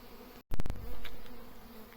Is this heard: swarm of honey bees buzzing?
yes